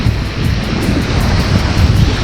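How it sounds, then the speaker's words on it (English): Ocean waves break on a reef at night, heard as a steady, loud surf roar with wind buffeting the microphone, continuous and unbroken. "It looks like the waves are breaking out on some reef there."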